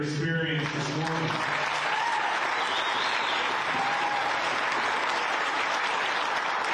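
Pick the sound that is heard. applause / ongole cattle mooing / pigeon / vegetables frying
applause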